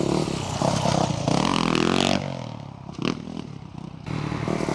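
A motocross motorcycle on a supercross track revs hard, then backs off and picks up again, the engine rising and falling with throttle changes and some clatter, heard fairly close and without speech.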